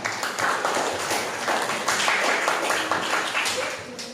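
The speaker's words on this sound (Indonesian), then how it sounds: "tepuk tangan untuk kita semua" A group of students applauds during a classroom lesson, with scattered, uneven claps repeating throughout and voices mixed in.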